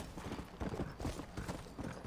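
Horse hooves clip-clop in a steady trotting rhythm in Red Dead Redemption, the dull repeated thuds fairly close and continuous over a low background rumble.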